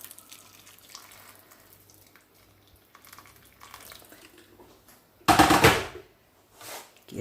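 Boiled water poured from a kettle into a cooking pot of onions and meat, a loud splashing gush for about a second after quieter kitchen clatter, followed by a shorter second splash.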